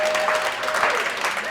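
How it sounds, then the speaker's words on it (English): A crowd of shelter staff and volunteers claps warmly for the last animal moved out of the Town Lake animal shelter, steady dense applause throughout with no clear speech. "Everybody gathered around to welcome her to the shelter and to really give each other a round of applause"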